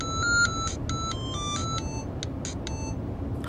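A telephone ringing in a home, a series of bright electronic tone bursts repeating in short pulses over a low, steady background hum.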